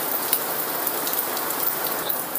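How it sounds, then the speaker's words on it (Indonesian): Heavy rain pours down outside in a dense, steady hiss of drops striking surfaces, loud and unbroken for the whole stretch with no voices over it. "Di luar sekarang sedang hujan deras,"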